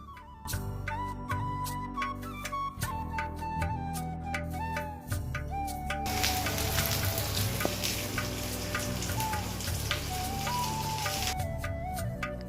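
Loud, continuous sizzling of spices hitting hot oil in a pan for tadka tempering, crackling steadily and intensifying midway, with no voices.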